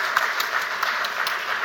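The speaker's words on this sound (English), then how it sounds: "Round of applause for both the teams." An audience at a debate during the 2016 Pitch CMO Summit gives a round of applause for both teams: dense, continuous clapping from many hands, fairly loud and without voices.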